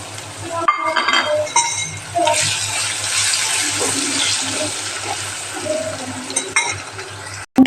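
Onions hit hot oil in a pan for a Kathiyawadi chana dal and bottle gourd curry: a few clinks and stirring knocks lead into a loud, sustained sizzle that hisses for several seconds, then cuts off abruptly.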